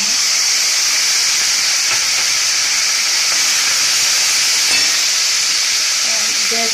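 Masala paste for paneer korma sizzles in hot oil in a pan, a loud, steady, close hiss that holds evenly throughout with no voices.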